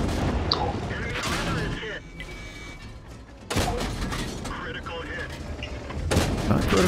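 Enemy gunfire in a tank battle game, sharp booming shots and bursts arriving in clusters, with a player talking over the noise in parts.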